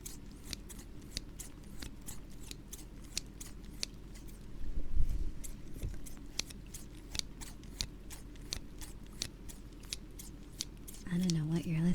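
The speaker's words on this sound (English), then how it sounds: "These are scissors." Scissors snip in a quick, steady series of crisp, close cuts at whisper-level ASMR closeness, with brief handling rustles midway and a soft voice at the end.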